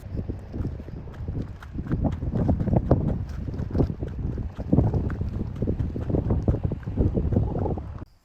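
Steady wind buffeting close by with rough, churning sea waves washing onto the shore at Foça, Turkey, loud and unbroken throughout.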